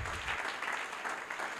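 A church congregation claps and cheers in acclaim of Jesus, a steady, continuous wash of applause that fills the room and holds level for the whole moment with no speech over it.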